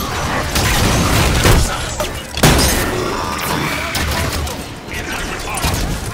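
Dense gunfire and explosions from the Halo 5 Guardians campaign, a sustained loud barrage with heavy thuds and impacts throughout, speech faintly mixed in.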